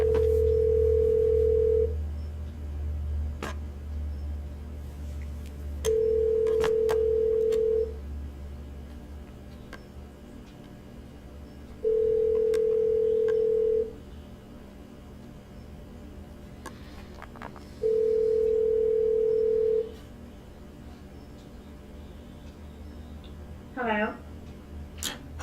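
Ringback tone of a call to a house phone that nobody picks up: four evenly spaced two-second rings about six seconds apart, clear and steady over a faint line hiss.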